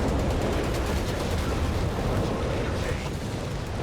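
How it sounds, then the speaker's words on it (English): A Nebelwerfer rocket barrage in the video game Company of Heroes 3 produces a dense, continuous rumble of overlapping explosions that stays loud and steady throughout. "And there go Nebula for barrage here at the mortar."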